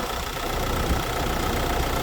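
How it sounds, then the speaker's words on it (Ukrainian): The engine of a 2019 Renault Master van idles close by with a steady, even rumble and a faint rhythmic knock. "На даний час заведений двигун."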